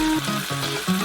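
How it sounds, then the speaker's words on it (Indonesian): Ready-made bolognese sauce from a jar poured into a hot frying pan, sizzling loudly and close with bubbling pops in short repeated bursts. "buka saus bolognese yang sudah jadi, dan tuangkan selama toples saus ke dalam wajan"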